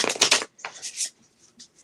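A deck of cards being shuffled close up: a quick riffling burst followed by a few softer, brief flutters and taps, with no talking.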